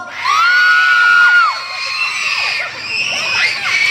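An audience screams on cue during a game segment at a Toyota event, with one piercing high shriek first, then a dense wall of excited screams and shouts from many voices that stays loud and close to the end.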